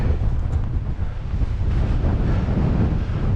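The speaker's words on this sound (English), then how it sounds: "the bloody wind is just relentless" Relentless wind roars across the microphone on a mountain bike ride in the Peak District, a loud, continuous buffeting rumble with no break and no voices.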